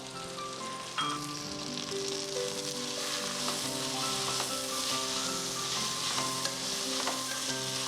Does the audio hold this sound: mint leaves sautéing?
yes